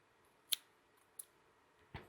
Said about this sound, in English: I'm going to go ahead and trim this yarn tail a little bit so it's not in the way